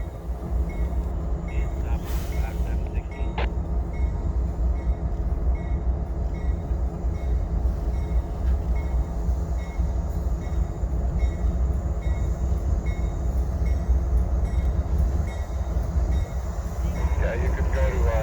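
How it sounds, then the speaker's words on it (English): Union Pacific donation train with steam locomotives passing near Council Bluffs, Iowa, a loud, steady rumble of rolling wagons that continues for the whole stretch, with a brief squeal, faint voices heard beneath it. "And here comes the donation train and the crew change."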